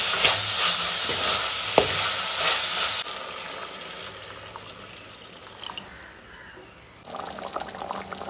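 Hot oil sizzles in a pan while frying for a Jaffna-style prawn curry. A loud, steady hiss fills the first few seconds, then softens to a gentler crackle and swells again near the end.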